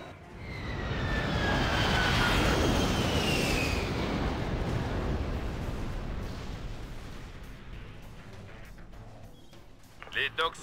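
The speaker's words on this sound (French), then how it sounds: "Frappe aérienne lancée." In the C&C Generals Zero Hour video game, an air strike aircraft roars overhead as a broad jet rush with a falling whine, swelling loudly then fading away, followed by a few short sharp impacts near the end.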